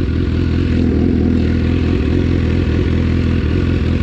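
A BMW S1000R motorcycle engine on a launch-control start holds a loud, close, steady drone with a slight clatter running through it.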